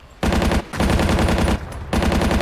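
Rapid machine gun fire in the World War II shooter Battlefield 1942, coming in loud, close, sustained bursts with brief gaps between them.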